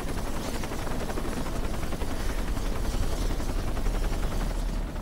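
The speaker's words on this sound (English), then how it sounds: "Shit the helicopter." A helicopter in Shadow of the Tomb Raider drones steadily as it flies off. The rotor chop is loud and continuous, with a rhythmic pulsing texture and no speech over it.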